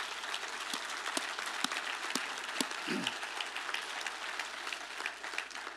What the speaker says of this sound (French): Est-ce qu'on peut juste manifester notre soutien par nos applaudissements?